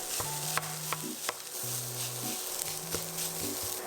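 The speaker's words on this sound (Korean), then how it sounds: "간장 1스푼 두르고 소금 2큰술 넣고 코팅하듯이 고슬고슬하게 잘 볶아주세요" Rice fried in a pan with spices, soy sauce and salt, a soft continuous sizzle with intermittent scraping and stirring taps, faint and close, without talk.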